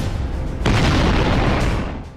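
A single loud, deep blast rumbles out during a Chinese military drill at sea, a broad boom that holds briefly and then fades.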